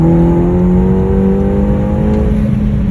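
A car engine under hard acceleration, loud and close from inside the car, with a steady whining drone whose pitch climbs gradually over a few seconds.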